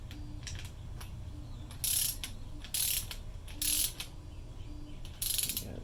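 A ratchet wrench works a valve cover bolt on a Mazda B2000, clicking in short bursts about once a second, crisp and near over a low steady background, with no talk.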